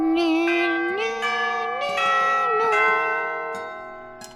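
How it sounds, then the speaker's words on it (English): A school bell chimes at the end of a lecture, a series of resonant, sustained ringing tones that overlap and slowly decay, close and fairly loud, with no talking. "But as soon as the bell rings..."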